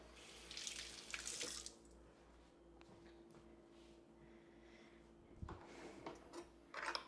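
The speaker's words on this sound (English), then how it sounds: "I'm gonna have to wash my hands really quick" Water running from a kitchen tap during handwashing to rinse off egg, quiet splashing that comes and goes in short bursts with soft rubbing between, faint and without speech.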